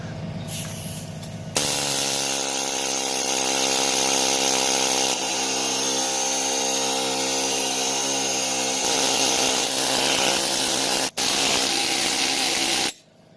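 A loud, steady mechanical chattering of a needle scaler hammering metal, running continuously for several seconds with a brief break near the end.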